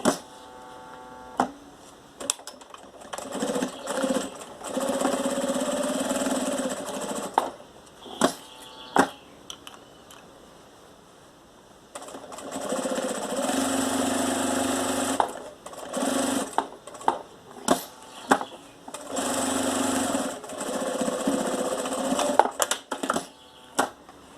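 A domestic sewing machine hums along in long steady runs as it stitches a pocket onto fabric, pausing between runs for brief clicks and fabric handling.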